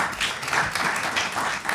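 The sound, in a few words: audience applause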